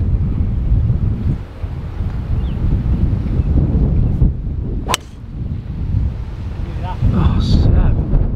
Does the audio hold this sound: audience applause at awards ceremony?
no